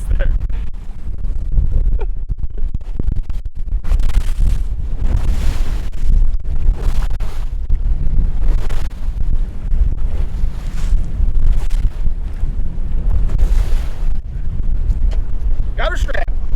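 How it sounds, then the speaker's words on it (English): Strong wind gusts buffet a boat out on a lake with big waves, a loud continuous roar of wind noise on the microphone with water wash underneath, steady for the whole stretch. "You hear that wind?"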